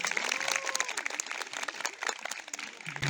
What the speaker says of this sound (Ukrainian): йому слово під ваші оплески, друзі